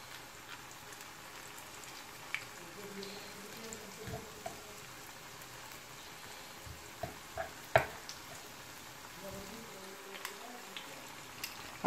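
Onion bhaji fritters frying in oil over lowered heat, a quiet continuous crackle with scattered small pops and spatters.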